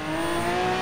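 1977 Pontiac Firebird Trans Am with a V12 engine revving in Forza Horizon 3, a brief steady high whining engine tone, loud and sustained without talk.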